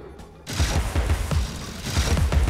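Pepper Grinder weapon firing in the video game Alice: Madness Returns, a sudden onset into a dense, continuous rapid-fire rattle of thumping bursts that carries on loudly to the end.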